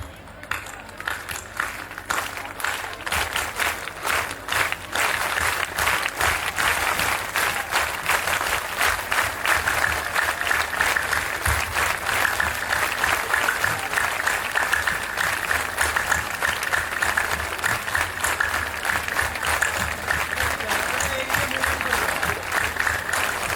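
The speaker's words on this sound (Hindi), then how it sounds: "इसे हम आनंदम ताली कहते हैं।" A large audience at a spiritual discourse claps in rapid, steady rhythm, the rhythmic 'anandam' clapping, a loud sustained rattle of many hands that runs on for over twenty seconds, thin at the start and then full.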